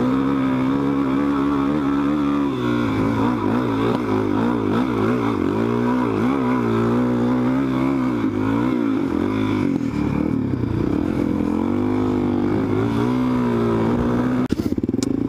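A supermoto motorcycle rides and accelerates hard, its engine note climbing and dropping through repeated revs and gear changes. The sound stays loud and close throughout, with a sharp burst near the end.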